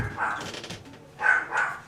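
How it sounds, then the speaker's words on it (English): Several dogs barking nearby in short bursts, a yapping pair at the start and another louder pair near the end, with quieter sounds in between. "I don't know if these dogs are going to shut up or not."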